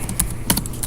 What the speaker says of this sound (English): That would be a lot of typing.